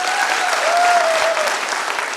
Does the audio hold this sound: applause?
yes